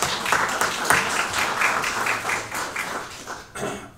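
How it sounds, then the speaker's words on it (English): An audience at a press conference on UTSA joining the AAC claps in a steady burst of applause, close and lively, thinning out near the end. "So I want to give Lisa a round of applause."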